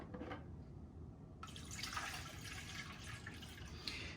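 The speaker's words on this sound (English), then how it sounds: "And let's get 1 liter of water in." A liter of water pours into the reservoir of a Technivorm Moccamaster coffee maker, a steady splashing rush that grows fuller partway through, close and continuous with no voices.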